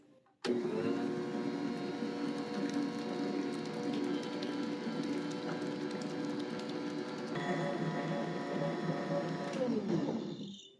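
An electric hand mixer whirs steadily as it beats cake batter for an old-fashioned Southern coconut cake, with egg whites being added; the motor hum runs loud and continuous, shifts pitch briefly near the end, then winds down.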